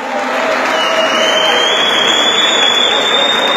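Audience applause at a wrestling world championship match in Turkey, a steady dense clapping from a crowd that stays loud and even throughout, with no one speaking over it.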